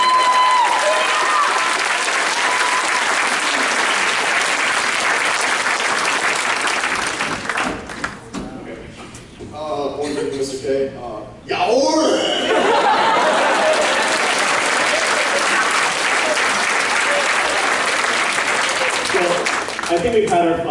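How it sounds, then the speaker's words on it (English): An audience at a high school dinner skit claps loudly and continuously, dipping briefly midway amid cheers and chatter before the applause swells again. "Finally, just a special round of applause for Kia for coordinating all this content."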